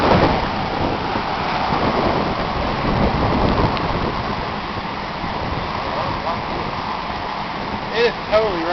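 Heavy rain in a tornado-producing storm near Yazoo City, a loud, dense roaring wash that continues throughout, with faint voices and a few sharp sounds near the end.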